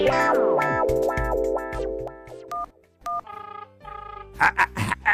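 A telephone in an animated cartoon gives out a quick series of electronic dialing beeps and ringing tones, loud and close, with short pauses between the bursts and no voices.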